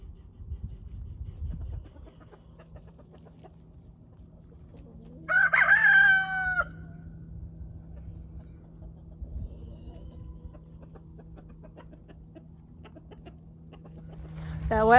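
A farm chicken gives a brief loud burst of squawking and clucking while being chased back toward its coop, outdoors with low background noise and quiet rustling between calls.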